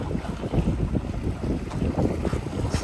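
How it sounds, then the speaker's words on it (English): Strong wind buffets the microphone outdoors at a waterside park in Fort Lauderdale, Florida, a steady low roar with gusty swells throughout and no voices. "A little bit further, going against the wind. The wind's blowing north."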